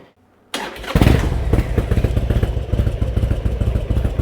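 A Harley-Davidson motorcycle, nearly new with about 7,300 kilometers on it, cranks and fires up loudly close by, settling into a lumpy, pulsing idle.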